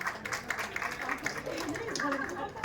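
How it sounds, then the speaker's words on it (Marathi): At a baby shower program, an audience claps in a quick, steady rhythm for a fugdi dance, and voices carry on over the clapping throughout. "कितीतरी वेगवेगळ्या प्रकारचे टाळ्या वाजवूयात का"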